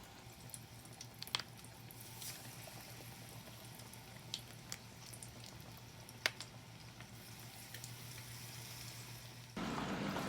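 Dorito-coated chicken pieces frying in oil at 375 degrees, a steady low sizzling bubble with scattered pops and crackles, fairly quiet throughout and no talking.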